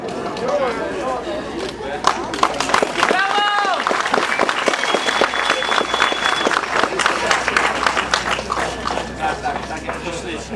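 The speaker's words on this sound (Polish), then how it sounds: "Wielkie brawa z numerem 17" A crowd applauds rally driver Mateusz Banaś, Mitsubishi Lancer Evo VI, at the GSMP Limanowa 2010 award ceremony, with steady clapping running under an announcer's voice and a short whistle.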